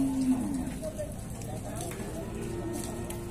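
A cow moos at a cattle fair in Dois Riachos, Alagoas, one low drawn-out call near the start, heard over steady crowd murmur with other fair noise behind it.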